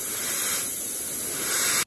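An airbrush sprays grey top coat paint onto a 1/200 scale model of the battleship IJN Mikasa, giving a steady, close hiss that runs evenly for nearly two seconds before cutting off abruptly.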